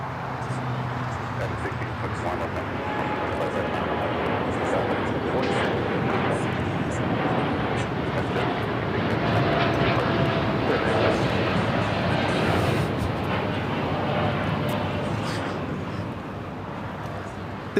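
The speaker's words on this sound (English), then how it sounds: "This is United Airlines 1756 taking off to Newark on the 787-10 Dreamliner." Taking off from LAX for Newark, a United Airlines Boeing 787-10 Dreamliner makes a long, sustained roar that builds gradually and then eases slightly at the end, with some faint voices mixed in.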